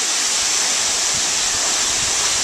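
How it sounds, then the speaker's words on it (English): A powerful waterfall roars in a steady, dense wash of rushing water, loud and very close, with no talk over it. "The force from the waterfall is so hard, you can't even, you can barely breathe when you get up close to it"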